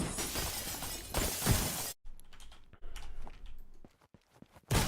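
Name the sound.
glass shattering from being shot in a video game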